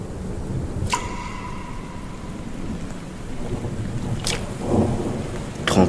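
Torrential rain pours steadily throughout a radio drama scene, a dense close hiss with a few sharp bright cracks like thunder or splashes standing out, no voices.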